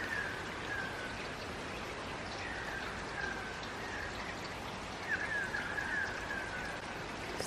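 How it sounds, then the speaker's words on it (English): Steady rain falls outside in a rainforest at dusk, a dense even patter of drops on surfaces with faint chirping calls running through it, no talking. "It is raining outside."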